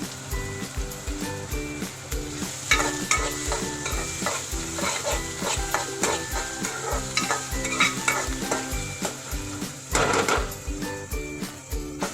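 Onion fries in a pan with steady sizzling, while a spoon stirs with repeated scraping strokes at an even rhythm throughout. The cooking is close and moderately loud, with no talking.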